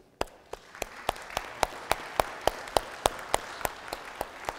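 A church congregation at a worship service applauding, a run of sharp, evenly spaced claps that starts thin and builds into steady clapping over a few seconds, with no talking.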